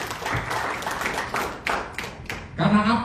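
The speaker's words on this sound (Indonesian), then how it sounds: "Berikan tepuk tangan bagi Yesus" A church congregation bursts into applause during a sermon, a clatter of many hands that swells and fades in short waves while a preacher's voice carries over it.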